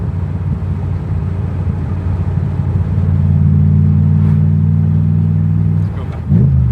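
Engine of a Shelby Daytona Coupe race car held in fourth gear, a steady low drone with a strong rumbling hum that rises slightly midway and dips near the end, heard from inside the cabin.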